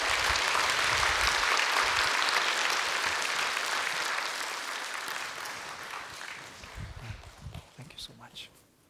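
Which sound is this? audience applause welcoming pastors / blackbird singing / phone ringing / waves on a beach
audience applause welcoming pastors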